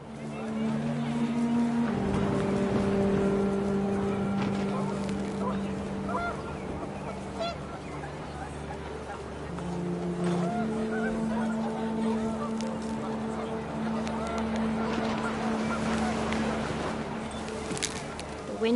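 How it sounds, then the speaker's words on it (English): Panicked geese honk repeatedly at moderate loudness in What Remains of Edith Finch, with wind and a steady game-music drone running continuously underneath the calls. "The wind picked up, and panicked geese appeared and quickly went."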